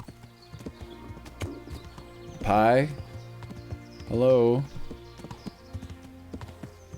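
Horse hooves clip-clop steadily in the medieval game Kingdom Come: Deliverance, a moderate rhythmic trot under two loud horse neighs, with someone speaking briefly over it.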